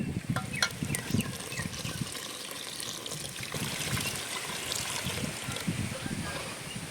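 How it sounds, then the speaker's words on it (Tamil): Water pours and splashes steadily into a pot of simmering chicken kurma for biryani for several seconds, a continuous close trickling with faint clatter. "தண்ணி சேர்த்துருவோம்."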